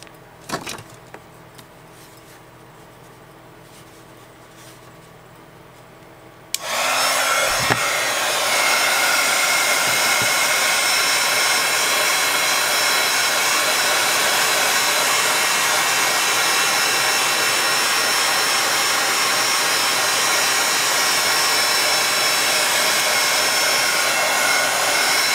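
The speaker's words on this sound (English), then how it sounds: "I'll apply a little heat to it and see what happens." A heat gun warming glued fabric on a junk-mail envelope switches on after a quiet start, then blows with a loud, steady, continuous hiss and whine to the end.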